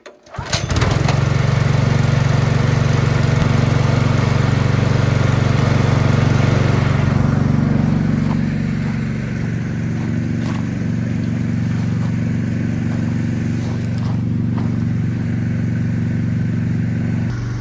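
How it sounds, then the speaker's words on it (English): A hay baler's engine runs loud and steady right after starting, a continuous close rumble that settles to a slightly lower, even drone partway through and carries on unbroken. "while the baler's running"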